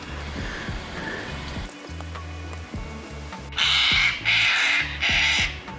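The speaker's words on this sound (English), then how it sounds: "the ones that are making all the noise now are corellas. And they're upset about something" Corellas and a cockatoo screech noisily in bush near a campground around Langi Ghiran and Green Hill Lake, Ararat, Victoria, with three loud harsh bursts of calling toward the end over a rumbling background.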